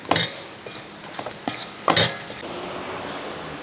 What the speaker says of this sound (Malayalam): അല്പം വാളംപുളി ഞാനത് പിച്ചി മുറിച്ച് അകത്തിട്ടിട്ട് ഒന്ന് ഇളക്കി കൊടുക്കും